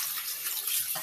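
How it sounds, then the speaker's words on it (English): Running tap water flows steadily over a hand being rinsed of a sugar paste, a broad close splashing hiss throughout the short moment. "I'm just putting my hand under the running water"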